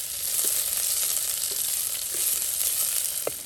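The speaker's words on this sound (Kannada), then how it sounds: "ಒಂದು ಈರುಳ್ಳಿ, ಸ್ವಲ್ಪ ಸಾಫ್ಟ್ ಆಗಲಿ" Onion softening in hot oil in a pan, a steady bright crackling sizzle that stays even throughout, with a few faint utensil taps near the end.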